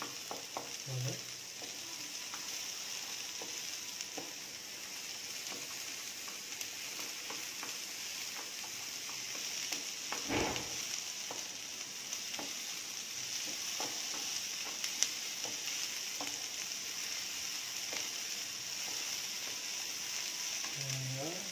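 Capsicum sautéing in butter in a pan, a steady soft sizzle with occasional stirring scrapes throughout, fairly quiet and without talk.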